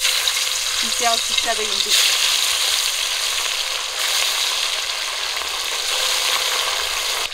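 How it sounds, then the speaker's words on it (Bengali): Pabda fish frying in a pan, a steady close hiss and crackle of hot oil running throughout, with a brief spoken word early on. "এবার বাকি মাছগুলো ভেজে নেব।"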